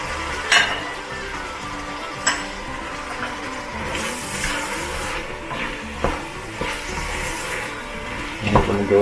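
Onions simmering and sizzling in sauce in a cooking pot, a steady moderate bubbling hiss with occasional clinks and stirring knocks.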